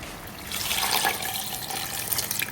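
Water pours steadily into a cooking pot of vegetables for soup, a continuous splashing gush lasting a few seconds, close and fairly loud, with no voices.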